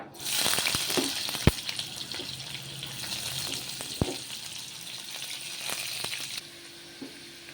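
Sesame seeds and onions frying in a pan, a steady broadband sizzle with scattered sharp clicks and a few louder knocks of utensil on pan, easing slightly near the end.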